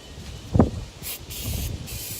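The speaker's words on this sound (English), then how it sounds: "I'm out of brake cleaner. So I got some throttle body cleaner." A can of throttle body cleaner is sprayed on car brake parts as a stand-in for brake cleaner, giving short close hissing bursts after a brief thump.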